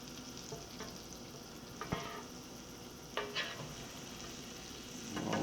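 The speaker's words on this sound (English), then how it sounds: "So we're gonna start off by getting some butter on here." Butter sizzles steadily in a hot pan before a breaded northern pike fillet goes in, a constant close hiss broken by a few light clinks of a utensil.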